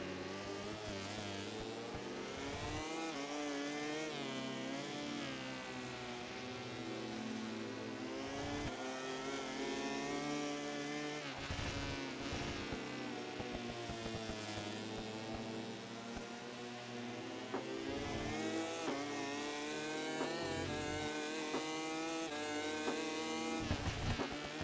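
High-revving racing motorcycle engine in GP Bikes, whining up and down through gear changes and repeated throttle lifts for corners, steady and fairly close with no talk over it.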